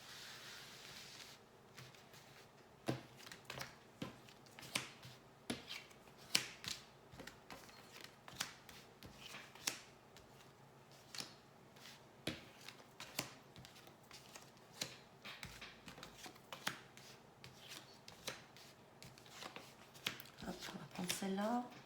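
Tarot cards are shuffled and handled for a 15-card spread, a long run of quiet riffling snaps and soft slides at an uneven rhythm, close up under faint background noise.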